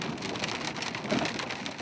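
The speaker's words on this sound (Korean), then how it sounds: "갑자기 우박까지 쏟아진다." Hail pours down steadily outdoors on a narrow, dangerous mountain road, a dense continuous patter and hiss with no pauses, fairly loud and close.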